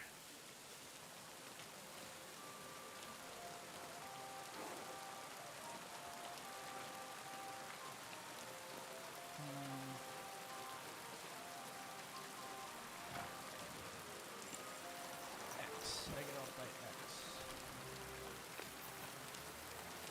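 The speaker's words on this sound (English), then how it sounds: "Pissing down rain again." Rain falls steadily in a soft, continuous patter on surfaces, faint and distant, with a few scattered drips and knocks within the wash of noise.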